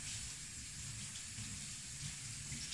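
Cold water runs from a tap into a mixing bowl in a kitchen, a soft continuous splashing and trickling stream heard faintly and evenly for a few seconds.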